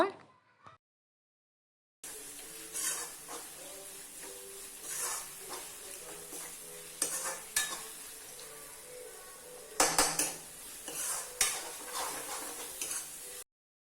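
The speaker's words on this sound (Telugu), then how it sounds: "కొద్దిగా సాల్ట్ యాడ్ చేసుకొని ఆ టమోటా అది సాఫ్ట్గా అయ్యేంత వరకు అయితే మగ్గించుకున్నాను" Tomato with a little salt softening in a pan for chicken curry, a low steady sizzle and hiss with occasional louder bursts of stirring clatter, starting after a brief silent gap.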